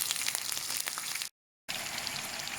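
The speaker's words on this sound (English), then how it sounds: "So we are frying the fish 5 minutes on either side" Marinated fish fries in hot oil for a Durban-style Indian fish curry, a loud, steady crackling sizzle that cuts out for a moment and then resumes.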